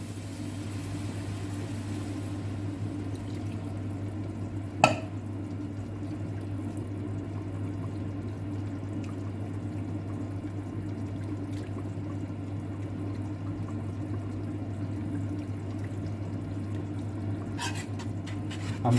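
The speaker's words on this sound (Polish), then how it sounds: "I teraz w tym momencie, na tym etapie daję mleko." Milk (400 ml) is poured into a béchamel sauce for homemade lasagne, a continuous, fairly even pouring wash over a steady low kitchen hum, with a brief clatter partway through.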